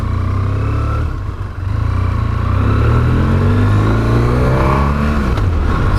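A BMW F800ST motorcycle engine revs up loud and close, climbing and falling in pitch with a steady, throaty drone throughout.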